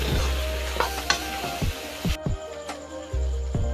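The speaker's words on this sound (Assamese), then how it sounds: "এতিয়া ভালকৈ লৰাই দিম বস্তুটো" A spoon scrapes and knocks steadily as chicken curry with potatoes gets stirred in a pan, giving repeated close clacks over a low sizzle, with no talking.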